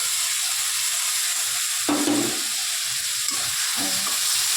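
Spices sizzling with onion and tomato in a pan for an egg curry, a steady close frying hiss throughout with a few stirring scrapes of a spoon partway through.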